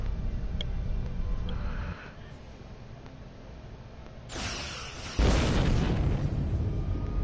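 Starship weapons fire in the Star Trek Online space game, with a low rumbling engine hum that drops out, then a sharp burst of energy fire followed by a loud booming blast that sustains to the end.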